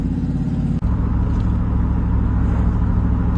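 A truck with a 4L60E automatic transmission, shifted by a 12-volt Power Wheels shifter, idles with a loud, steady low engine rumble, broken by a brief click early on.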